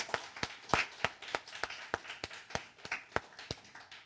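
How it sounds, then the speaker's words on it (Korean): A church congregation at an Easter Sunday service claps in slow, sparse, uneven beats, distinct individual claps spaced across the moment rather than a thick ovation, fairly quiet overall. "우리 박수를 크게 한번 칠까요?"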